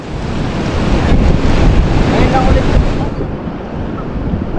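Steady roar of surf and rushing wind fills the whole stretch, loud and close, easing slightly toward the end.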